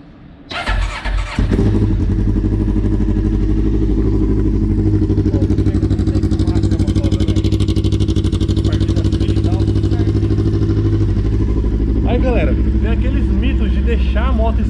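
A cold motorcycle engine in neutral with the choke pulled cranks briefly, catches and settles into a loud, steady, close idle that runs unbroken, with a voice briefly audible over it near the end.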